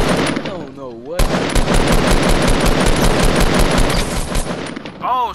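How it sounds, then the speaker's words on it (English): Rapid automatic gunfire rattles loudly and continuously in a video game shootout, with bursts from behind the player dominating nearly the whole stretch, and a voice speaks briefly near the start and end. "I'm getting shot from behind"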